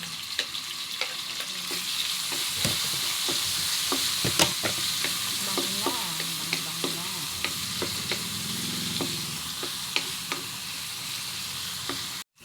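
Tomatoes sautéing in a pan for a mung bean dish, with steady frying sizzle and repeated spatula stirring and scraping clicks throughout, close and moderately loud.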